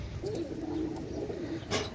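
Teddy pigeons give soft, low cooing in a quiet space, a faint murmuring call lasting about two seconds with a brief higher rustle near the end.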